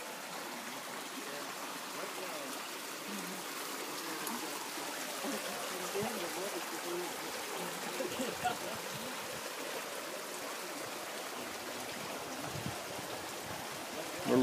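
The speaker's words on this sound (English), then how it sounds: "can you get the sound of the babbling brook?" A brook babbles steadily, a continuous soft rush and trickle of flowing water at a constant level, with no voices over it.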